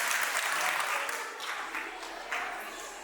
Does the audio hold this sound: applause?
yes